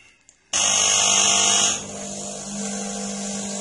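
A Delonghi EC270 espresso machine pump whine kicks in loud and abrupt, runs for about a second, then drops to a lower, steadier hum that keeps going.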